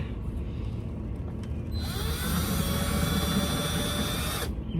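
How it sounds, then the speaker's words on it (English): A power drill bores into the corner of a 1997 Chevy Astro van, the motor starting partway through with a high, whining buzz that holds steady for a few seconds before cutting off, close and loud over a low rumble. "we're gonna drill in the corner here for the most part"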